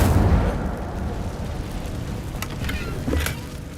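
Incendio fire spell cast in the wizarding video game Hogwarts Legacy: a loud rumbling whoosh of flame that flares at the start, crackles and sizzles steadily, then swells briefly again before fading.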